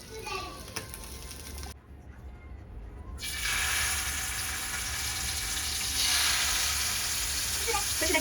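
Fish frying in a pan, a steady sizzling hiss that drops out briefly then returns louder, with faint voices in the background.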